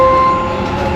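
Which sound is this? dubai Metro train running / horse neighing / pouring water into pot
dubai Metro train running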